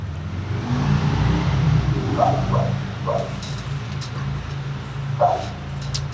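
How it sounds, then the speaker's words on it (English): A dog on a back porch gives a few scattered, fairly distant barks and yips over steady low outdoor background noise, with no one speaking. "you get dogs"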